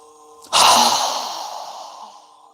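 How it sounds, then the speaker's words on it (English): A single strong, forceful exhale through the nose during a yoga breathing exercise, a sharp breathy rush that starts abruptly and fades out over about two seconds, close and alone. "inhaling through your nose, strong exhale"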